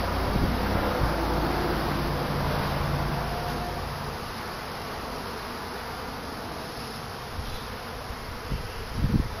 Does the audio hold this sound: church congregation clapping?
no